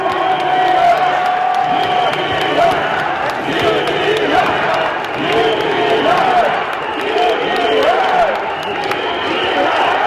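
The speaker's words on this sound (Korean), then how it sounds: "큰 박수 보내주시기 바랍니다" A large crowd at a party leadership convention cheers and shouts continuously, with clapping mixed into the roar and a few voices rising above it, loud and sustained throughout.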